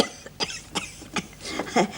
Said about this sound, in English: You still got that cough, you know.